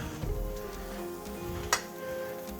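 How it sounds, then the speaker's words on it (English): Lamb chops seasoned with ras el hanout sizzling on a hot grill, a soft steady crackle and hiss close by with a few light clinks and one sharp tick. "Hear that nice sizzle."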